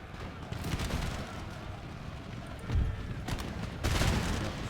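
Musket volleys from camel gunners in an Empire Total War battle in India, a dense crackling fusillade with heavier bursts swelling now and then, distant-sounding and continuous beneath the wider battle noise.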